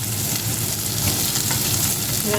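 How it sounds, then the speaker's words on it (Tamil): Onions frying in a pan until brown over medium heat, a close, dense, continuous sizzle with faint stirring scrapes and no talking. "வெங்காயம் கொஞ்சம் ப்ரௌனாக வரைக்கும் பண்ணிங்க அடுப்பை வந்து மீடியம் இது ஹீட்டில் விடுவோம்"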